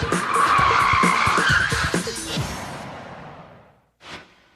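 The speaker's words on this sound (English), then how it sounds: "a forward handbrake J-turn" A car skids with loud tire squeal through a forward handbrake J-turn, a sustained screech and engine roar fading out over a few seconds, followed by a short whoosh near the end.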